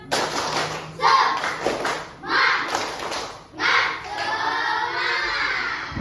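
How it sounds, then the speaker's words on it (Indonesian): A class of children repeats the rhythmic 'tepuk semangat' chant-clap, loud grouped clap bursts with short gaps, accompanied by a teacher speaking and kids calling out together. "Lagi, tepuk semangat."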